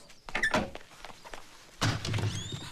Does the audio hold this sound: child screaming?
no